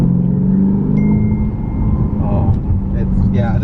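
A 467 hp Lexus RC F V8 rumbles from inside the cabin, its low growl rising slightly as it begins to rev, while people talk over the engine.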